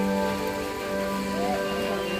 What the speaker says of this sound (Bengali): এই শুরু হয়ে গেছে বৃষ্টি